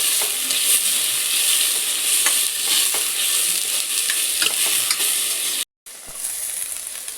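Onions for egg fried rice frying and being stirred over high heat, a loud continuous sizzle with scattered spoon scrapes, close by, cutting out briefly near the end before resuming.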